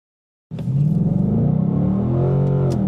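A Ford Coyote V8 in a vehicle with a 10R80 automatic transmission and upgraded converter accelerates hard in drive, a loud steady engine roar with rising harmonics that starts abruptly and holds for over two seconds.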